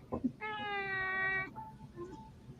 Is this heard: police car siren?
no